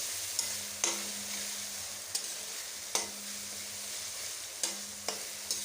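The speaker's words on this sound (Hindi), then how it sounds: "मिक्स कर लिया और इनको इकट्ठा फ्राई करूँगी" Masala with chillies frying in a pan for aloo palak, a steady soft sizzle under scattered sharp clicks of a spoon scraping and stirring, close and alone.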